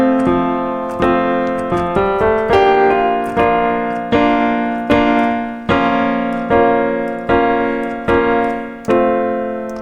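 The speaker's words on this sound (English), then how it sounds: "You do this thing where you go to the 4 chord and then you go to the 4 minor chord and then you go to the 1" A chord progression moving from the IV chord to the iv minor to the I, played as loud, clearly struck sustained chords in a steady rhythm with no talking.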